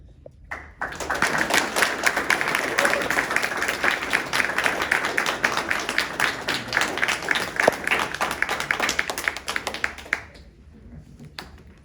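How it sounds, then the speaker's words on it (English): Warm applause from a crowd at a New Jersey township council meeting honours a newly sworn police sergeant, with dense clapping building quickly and holding steady for about ten seconds before fading out. "Let's give Sergeant Kapulskey and his family another round of applause."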